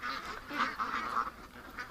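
Ducks near a shed give a few soft, faint quacks and honking calls in quick succession, heard from a little distance with no talk.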